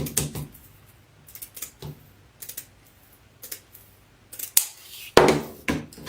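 Scissors cut fabric for a pinwheel petal quilt block, giving scattered snips and clicks in small clusters with quiet gaps between them, close and fairly crisp.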